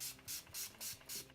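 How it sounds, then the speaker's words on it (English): Urban Decay All Nighter setting spray is misted from a pump bottle in four short, evenly spaced hissing bursts, close and fairly soft, with no talking. "I'm going to be using my Urban Decade All Nighter Spray"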